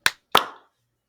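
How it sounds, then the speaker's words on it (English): A small group claps together on a count, giving two sharp, loud handclap hits a fraction of a second apart, the second slightly ragged and longer, then silence. "On three, clap."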